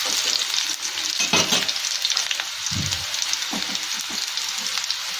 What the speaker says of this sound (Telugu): ఆయిల్ హీట్ అయ్యాక ముందుగా మనం ఆనియన్స్ వేస్తున్నాము. ఆనియన్స్ బాగా వేగాలండి.